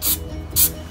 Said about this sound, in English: I never spray painted anything before